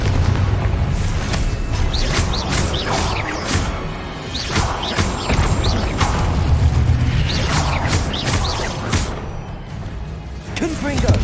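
Booming spell blasts from the Confringo fire spell in Hogwarts Legacy, several bursts with whooshes over a steady din of game combat, while a voice repeatedly calls out spell names.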